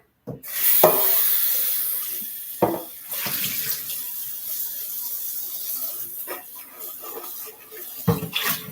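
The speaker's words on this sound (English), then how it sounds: "Now, you have to wash this pan so that we can get the pumpkin in there." Tap water runs into a kitchen sink while a pan is being washed, a close splashing rush broken by sharp clanks and knocks of the pan.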